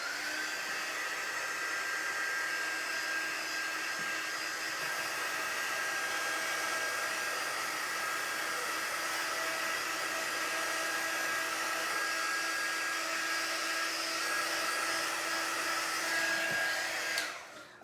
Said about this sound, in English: you need one of these or a blow dryer or something.